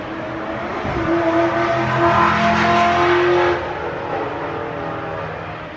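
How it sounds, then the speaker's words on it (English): A Chrysler 300 passing close by, its engine and road noise swelling loudly to a peak and then easing off as it moves away, heard alone without any talking. "How much you want to bet that was a Chrysler 300?"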